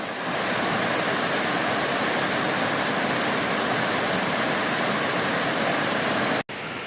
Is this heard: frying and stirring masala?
no